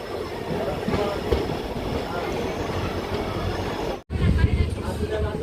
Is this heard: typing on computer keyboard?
no